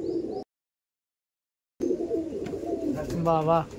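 Pigeons of the Abluk breed coo in a loft, soft low rolling coos that stop for a gap of silence, then resume with closer chirps and a voice briefly in the background.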